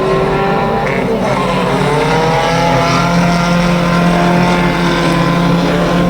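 Micro National Banger race cars racing in a heat at Kings Lynn, producing a loud, continuous, close engine roar with steady droning tones.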